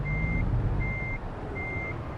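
A truck in the American Truck Simulator video game sounds its reversing alarm, three evenly spaced high beeps over a low engine rumble.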